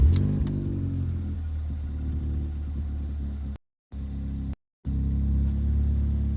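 A Ford ST car engine idles steadily just after a full service, a low, even rumble with a slight exhaust blow, cutting out briefly twice before resuming, nearby with no talking.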